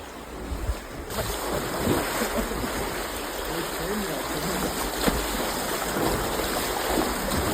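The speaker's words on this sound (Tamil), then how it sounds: "அருவியிலேருந்து தண்ணி வர மாதிரி இருக்கு." Rushing floodwater after heavy rain in Sri Lanka roars steadily like a torrent, a broad constant wash with faint voices beneath.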